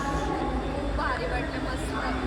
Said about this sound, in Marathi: ट्रेन आलेली आता